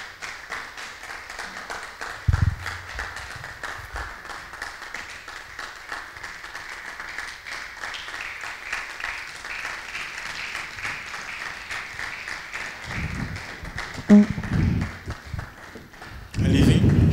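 An audience applauds for Sister Gisèle Deleme at a live event, a steady wash of clapping lasting many seconds at moderate level, with some thumps, footsteps and movement near the end.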